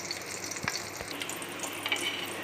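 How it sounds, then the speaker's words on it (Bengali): Savory French toast made from bread sizzles in hot oil in a pan as the second side fries, a steady crackling hiss with a few soft pops, close and alone. "এবার আমি উল্টো দিকটা আবার এই একই রকম ভাবে ফ্রাই করতে দিলাম।"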